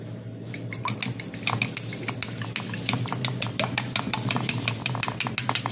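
Egg being whisked into an egg wash for bread, a utensil clicking rapidly and steadily against a bowl, close and fairly loud over a low steady hum, with no voices.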